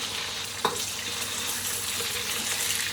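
Soft-fried pork sizzles steadily in a pan, a constant close hiss with one clack of a utensil early on and no talking.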